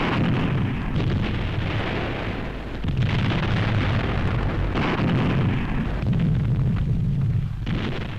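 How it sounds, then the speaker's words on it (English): A 1945 newsreel barrage from the 1st Canadian Army's self-propelled guns opening the Hochwald Forest offensive: loud, sustained rumbling blasts that swell in repeated waves, with no talk over them. "Self-propelled guns of the 1st Canadian Army open the offensive for the Hochwald Forest."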